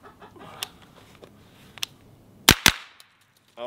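An EPC-9 9mm pistol-caliber carbine fires two quick, sharp shots close by, with faint clicks and handling noise before them.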